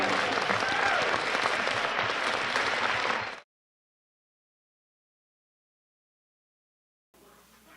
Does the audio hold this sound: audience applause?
yes